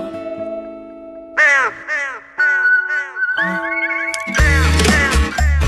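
Several loud, harsh crow caws in quick bursts, close by, ending in a dense flurry of overlapping squawks.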